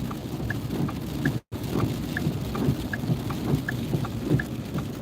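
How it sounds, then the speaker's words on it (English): Steady rain patters and hisses on surfaces with a low rumble underneath, continuous throughout apart from a brief cut of silence. "You get a lot of these little unforecast rainstorms too."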